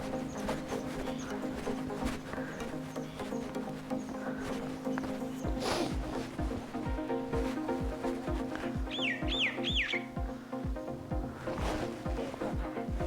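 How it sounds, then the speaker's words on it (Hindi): Birds chirp and sing in a mountain village of mud-walled houses on a snowy trek, with a brief trilling call standing out over steady background hum and faint hoof-like clopping. "और चिड़ियों की आवाज़ जो आ रही है,"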